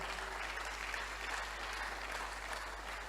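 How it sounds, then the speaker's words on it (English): Steady applause from an audience at a motivational talk, dense continuous clapping that holds at an even level throughout, with a low electrical hum underneath. "Clap for them well."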